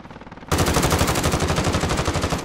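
Loud unsilenced automatic gunfire from Call of Duty Warzone erupts abruptly after quieter distant shots and continues as a rapid, even burst of close, heavy rounds.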